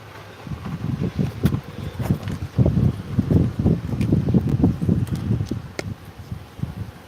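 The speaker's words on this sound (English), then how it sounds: "I'll try to get the wind covered up here when I get both hands." Outdoors at a park, wind buffets the microphone in continuous low rumbling gusts that rise and fall for several seconds, with faint clicks over the top.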